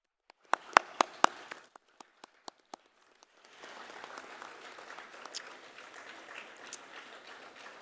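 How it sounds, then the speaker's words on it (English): Graduates applaud their family and friends at a Massey University graduation ceremony in Manawatū: a few sharp, separate claps at first, then from about 3.5 seconds a soft, steady spread of applause across a large hall, fairly distant. "join me in applauding your family and friends"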